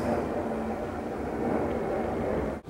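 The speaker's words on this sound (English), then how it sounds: "Sorry for the airplane sound." A propeller or jet airplane passing overhead gives a steady, broad rumbling drone that holds at an even loudness through the clip and cuts off sharply near the end.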